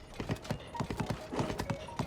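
Horse hooves clip-clop in a steady brisk rhythm as a horse is ridden through the Eldin region in Zelda: Tears of the Kingdom, close and clear over soft background ambience.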